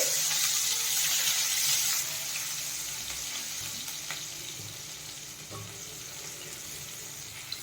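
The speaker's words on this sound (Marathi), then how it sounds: "मिरचीला थोडं भाजून घेणार आहे, परतून घेणार आहे." Green chillies frying in a pan with oil for a cashew curry, a steady crackling sizzle that is loudest at first and then settles into a softer, continuous hiss with a few faint clinks.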